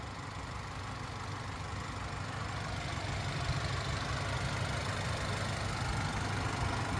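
A 2023 GMC Canyon Elevation's 2.7-liter high-output turbo four-cylinder idles under the raised hood, a steady close rumble with a broad even hiss that holds constant and alone throughout.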